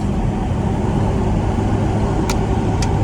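A vehicle driving a long rural road on a remote off-grid homestead run, with a steady, loud engine and road rumble filling the cabin, plus a couple of faint high clicks.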